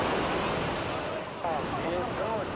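Big surf at Haeundae beach, with waves about three metres high, rolls and hisses as a steady, loud wash close by, and wind buffets the microphone throughout.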